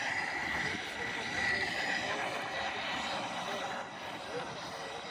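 Fighter jets such as F-18s, F-35s and an F-16 at the Sun 'n Fun airshow give a steady, continuous broadband roar that holds fairly even for the whole stretch, with no clear talk over it.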